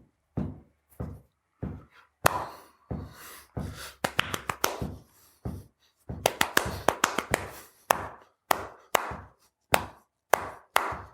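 A foot taps out a steady quarter-note pulse, a long run of close, crisp, evenly spaced taps with no talking, some beats clustering into quicker flurries.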